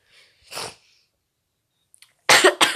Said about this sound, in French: je n'arrête pas de tousser